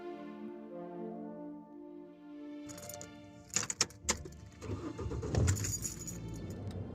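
A car sound effect: a soft tonal drone, then keys jangle and a door clunks, followed by an engine cranking and rumbling to life in a steady idle.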